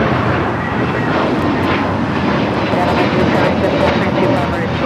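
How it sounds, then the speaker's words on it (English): Delta Airlines Airbus A321neo jet taking off at LAX, a steady broad engine roar that holds loud and even throughout, with talk running over it. "Delta Airlines 867 taking off to Orlando, Florida on the A321neo"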